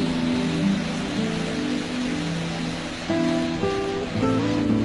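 Gokak Falls, a large waterfall throwing spray far downstream, gives a steady roaring rush of water, broad and continuous, with no voices.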